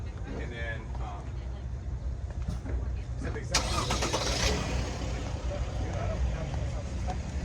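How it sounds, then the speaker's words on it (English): A Sprinter van's engine cranks and catches about halfway through, with a short burst of starter noise before the motor settles into a low running rumble. Voices talk quietly underneath. "So we probably start up the van"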